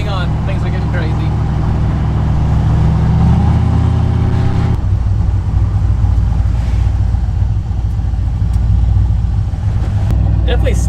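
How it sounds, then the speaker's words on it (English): A Ford F100 truck with a turbocharged LS1 engine accelerates under load with a rising whine, then drops off sharply as the throttle lifts, leaving a rumbling cruise with a brief burst near the end. "Again, the turbo spool up. That sounds wicked."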